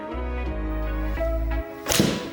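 After a low humming rumble, a single sharp crack of a Srixon golf iron striking a ball slightly low on the face rings out near the end, crisp and close.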